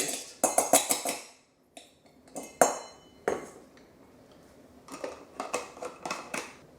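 Chanterelle powder tipped and scraped into a glass mason jar, a string of close metallic clinks and taps from a spoon or pan against glass, in short irregular bursts with brief pauses.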